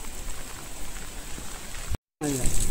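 Heavy monsoon rain falling at Navaja village in the Koyna dam catchment area, a dense steady patter on surfaces nearby, broken by a brief cut near the end.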